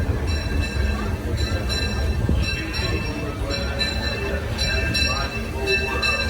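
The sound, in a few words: Disneyland Railroad train arriving at station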